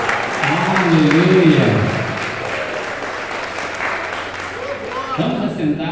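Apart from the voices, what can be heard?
congregation applauding in church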